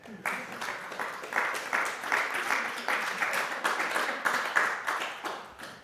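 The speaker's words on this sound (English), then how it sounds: "Give yourselves a great round of applause for being here." An audience at a live in-person anxiety relief talk applauds steadily for several seconds, a dense, even wash of many hands clapping at moderate volume with no voices on top.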